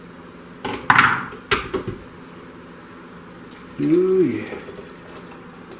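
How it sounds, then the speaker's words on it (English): Broth is poured into a pot of potatoes browned in bacon grease, a short liquid splash and clatter, followed by a second pour a few seconds later, with a brief voice remark in between. "we're ready to add our broth"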